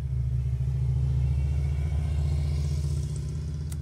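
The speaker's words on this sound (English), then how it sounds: "I was just waiting for that motorbike to go by" A motorbike rumbles past close by, a steady loud low engine drone holding level for a few seconds without any talk over it.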